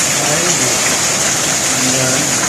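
Steady rain pours down during a storm, a dense continuous hiss of water falling on surfaces, loud and close throughout with no break.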